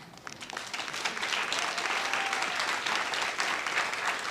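Audience applause at a graduation ceremony for a service-dog training class, a steady wash of many hands clapping that swells after the first second and holds loud and full to the end, with no talk over it.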